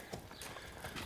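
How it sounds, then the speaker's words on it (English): A black and white mare's hooves clip-clop toward a gate at a canyon ranch, several soft, close hoof falls at an easy walking pace over faint outdoor ambience. "That black and white mare will meet us right out there"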